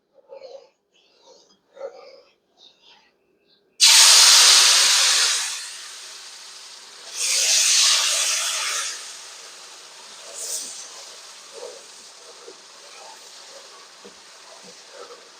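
Hot roux for a Cajun shrimp étouffée sizzles and spatters in a pan. A loud burst of hiss starts suddenly, fades, then flares up again in shorter bursts. Faint handling noises come before it.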